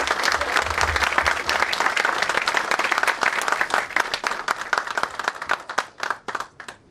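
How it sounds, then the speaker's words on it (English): An audience applauds a speaker at an event, a full burst of many hands clapping at first, then thinning out into scattered individual claps near the end. "please give him a round of applause"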